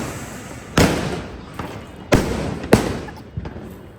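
Pop-up firecrackers burst on Diwali night, three sharp nearby cracks spaced about a second apart with a fainter pop after, over low outdoor background noise.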